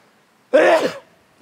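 A single sharp sneeze bursts out close by in an otherwise quiet, echoing gorge, lasting about half a second.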